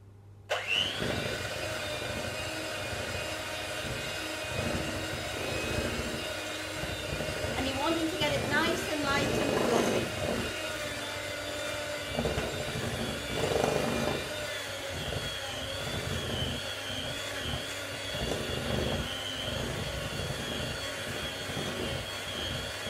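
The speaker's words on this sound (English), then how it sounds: "Apologise for the noise but we're going to mix these together." A steady electric mixer motor whirs continuously, with rougher grinding surges as beaters work through thick lemon drizzle cake batter in a bowl.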